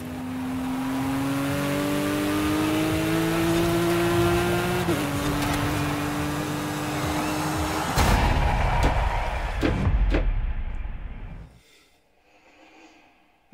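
Engine of a car in a racing video game played on a Logitech G920 wheel, a sustained high drone stepping through gear changes, then harsher bursts and rattling before cutting off, loud and continuous.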